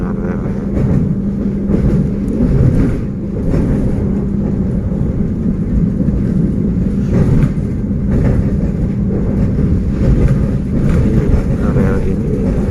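A train rolls steadily along rails that run right past residential houses near Padalarang, Bandung, giving a loud, continuous rumble heard from on board with a few faint knocks.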